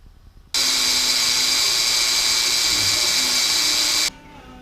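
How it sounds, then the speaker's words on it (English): A loud, steady power drill whirs continuously for several seconds, close up, starting and stopping abruptly, drilling metal for tapping. "Now, time to drill and tap."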